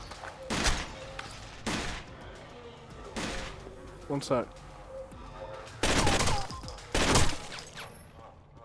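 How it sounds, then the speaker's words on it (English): Gunfire in the video game Rainbow Six Vegas as the player shoots TVs: several sharp, loud bursts and bangs with some shattering, spread across the stretch, while someone talks over and between them. "I'm gonna shoot these TVs."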